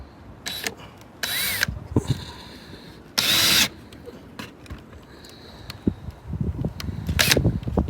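A power drill drives small screws while a couple renovate a shed on an abandoned homestead: several short whirring bursts with one longer, louder run in the middle, then scattered handling knocks close by.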